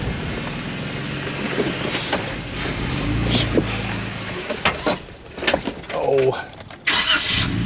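Jeep with a 4.5-inch MetalCloak long arm lift crawling over rocks off road in low gear, a low engine rumble rising and dropping in short bursts with clunks and scrapes, while people talk throughout.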